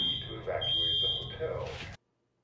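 A fire alarm in a TV drama sounds a loud, sustained high electronic tone for about two seconds before cutting off abruptly, with voices and background sounds mixed underneath.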